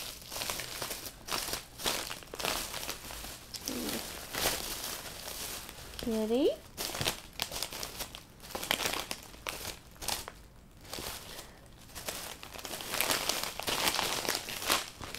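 Plastic sandwich bags crinkle and rustle in loud, irregular bursts close by, while a person talks intermittently over the noise.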